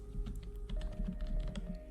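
Rapid keyboard typing mixed with mouse clicks from a gaming setup, a steady close patter of keystrokes over a low background hum, no speech.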